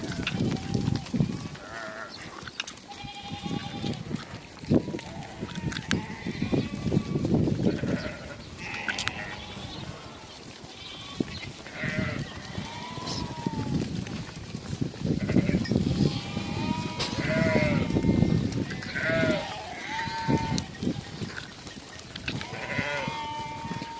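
Many sheep bleat repeatedly in overlapping calls, some close and some farther off, over a steady background of shuffling and faint voices.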